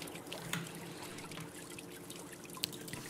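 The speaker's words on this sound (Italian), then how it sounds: "Sentite lo scorrere dell'acqua" Water running steadily in a soft, continuous trickle, with a few faint drips and one brief louder splash near the end.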